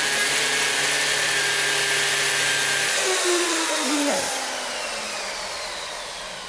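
Power drill running steadily while driving screws to mount a washbasin, a continuous whining motor hum that shifts pitch partway through and then slowly winds down, close and loud with no talk.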